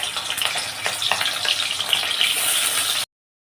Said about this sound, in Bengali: তেলটা আমার গরম হয়ে গেছে, এবার আস্তে আস্তে আমি মাছগুলোকে দিয়ে দেবো